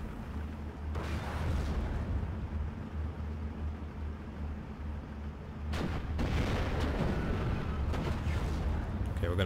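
An anti-tank gun firing in the WWII strategy game Steel Division: Normandy 44, with two heavy booming shots standing out over a constant low battle rumble, and someone talking at times.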